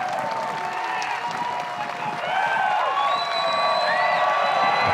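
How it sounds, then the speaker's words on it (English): Crowd at a disc golf tournament final, the 2025 LWS Open at Idlewild, cheering and applauding with whoops and shouts, a dense steady roar of clapping and voices that swells toward the end. "The crowd is loving every second of it."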